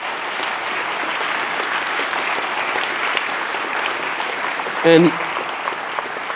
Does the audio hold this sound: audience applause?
yes